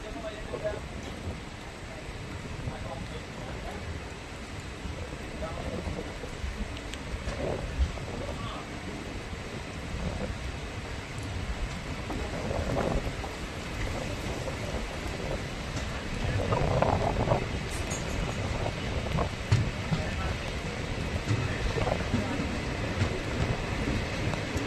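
A passenger train pulls away from Karakkad railway station in Kerala with a continuous rolling rumble and rattle of the carriages, wind buffeting the microphone, and swelling intensity as it gathers speed; a voice talks over parts of it.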